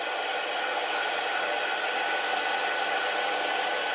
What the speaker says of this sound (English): it's going to take a little bit of time to melt all of this powder. So this is a type of embossing.